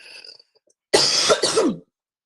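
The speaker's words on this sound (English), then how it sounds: "So I'm just going to cough a minute." A single harsh cough burst, close and loud, followed by a brief throat-clearing rasp, with faint breathy noise just before.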